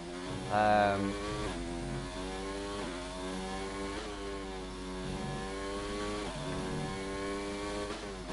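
A Formula 2 car engine screams through a hot lap of the Australian Grand Prix circuit in a racing video game, rising and falling in pitch through gear shifts and corners, with a commentator talking over it.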